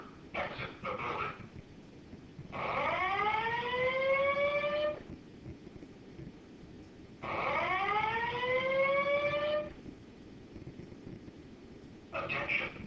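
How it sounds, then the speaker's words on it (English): Building fire alarm siren in a lecture hall setting, rising wailing tones that sweep up and hold in two long bursts, alternating with a recorded voice announcement giving evacuation instructions, loud and close. "This is a fire alarm. Exit the building."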